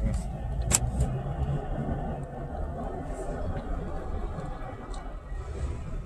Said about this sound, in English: It's like minor road noise.